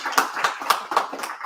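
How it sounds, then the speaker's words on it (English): A small audience at a startup community anniversary event gives a brief, sparse round of applause, with distinct individual claps in an uneven rhythm, close and moderately loud. "So if you could join me, just thanking them with a quick applause."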